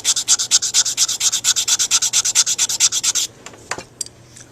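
Brass being sanded with coarse 120-grit sandpaper, a fast even run of loud rasping strokes that stops abruptly, followed by a few faint scrapes and taps.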